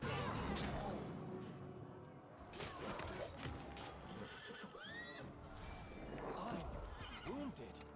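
A horse whinnies loudly several times with rising calls, over clip-clopping hooves and game sound effects, in the fantasy role-playing game Pathfinder: Wrath of the Righteous, with a voice speaking briefly.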